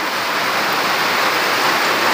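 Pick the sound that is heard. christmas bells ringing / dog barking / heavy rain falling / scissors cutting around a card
heavy rain falling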